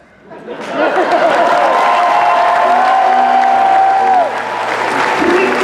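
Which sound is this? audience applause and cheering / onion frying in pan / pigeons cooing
audience applause and cheering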